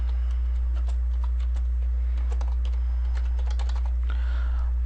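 Keys clatter in quick, irregular bursts as a folder name is typed on a computer keyboard, close and fairly clear over a steady low electrical hum, with no talking.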